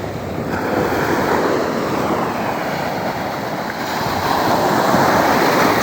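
Strong sea waves at a Zambales shore roar continuously in a loud broadband wash, swelling slightly toward the end, with heavy wind noise on the microphone and no voices.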